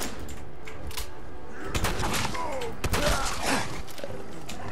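Bursts of gunfire from Fallout 4 crack in quick uneven volleys against a super mutant, loud and close, with heavy thuds between shots.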